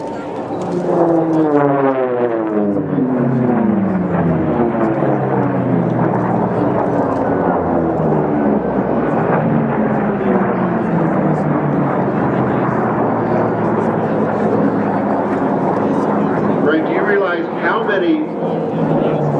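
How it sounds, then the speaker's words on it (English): Loud racing airplane engines roar and drone as planes fly past at the 2008 Reno air races. A rising and falling pitch shows them passing nearby, and a voice talks beneath the noise. "with all the different engines, you want to listen to them come around."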